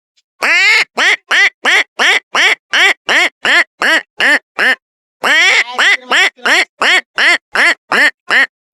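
A man imitates a duck, giving a quick, loud series of nasal quacks in two bursts with a short pause between them.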